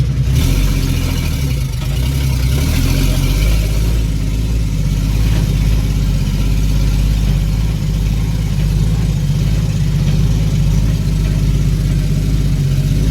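A ZIL-130 truck engine runs loud and steady at a low, throbbing pitch, holding an even drone from start to finish.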